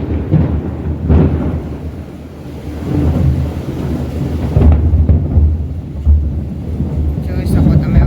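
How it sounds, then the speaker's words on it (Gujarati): Thunder rolls and booms during a heavy rainstorm, loud low rumbles swelling and fading over a steady hiss of rain and wind buffeting the microphone. "વરસાદ ચાલુ થઈ ગયો છે ને ગાજે છે કેવો ધડાધડીયો"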